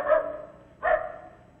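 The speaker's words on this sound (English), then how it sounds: "there's that dog again. Do you hear him?" A dog barking in a radio drama, two distinct barks about a second apart, moderately loud and slightly distant, with no voices.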